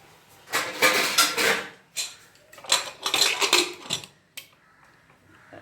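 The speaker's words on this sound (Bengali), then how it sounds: "এবার আমি গ্যাস জ্বালিয়ে আমি বসিয়ে দিলাম।" A pot of motor dal lentils with bottle gourd, water and green chillies is set on a gas stove, with bursts of close metallic clanking, scraping and knocking of cookware and lid in quick irregular clusters, then a softer final clunk.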